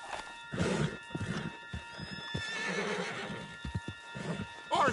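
Horse from Red Dead Redemption 2 whinnies and neighs with clip-clopping hooves, the loudest rising whinny near the end, while voices talk over the game sounds.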